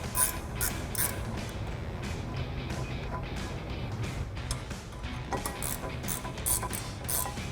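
A ratchet works the two 15mm caliper bracket bolts on a 2010-2014 Mustang, with rapid, close metallic clicking in repeated bursts over a low mechanical background.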